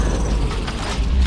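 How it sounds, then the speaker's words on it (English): A weapon being reloaded in the co-op zombie shooter Killing Floor, a short clattering mechanical rattle set against a dense, loud background of game noise. "I'm reloading!"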